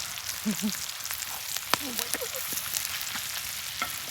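A steak frying in a pan at a car camping setup with a Rivian R1S, a steady close sizzle and crackle with occasional stirring clinks, and faint voices talking in the background.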